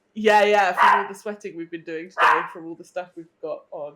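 A dog barks a few times at the start, loud and close, as people keep talking over it.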